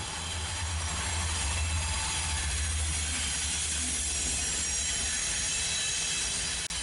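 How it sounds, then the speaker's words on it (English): An SD70M and an SD60I locomotive trail a maintenance train, a steady low rumble of engines and rolling rail cars with hiss on top, holding even and fairly close throughout. "an SD70M and SD60I follow the maintenance train"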